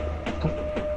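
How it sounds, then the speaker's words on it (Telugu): A moving train in a film scene gives a steady low rumble with faint rhythmic clatter from the wheels, continuous and even throughout. "ఈ ట్రైన్ వెళ్తూనే ఉండాలి, ఆకూడదు."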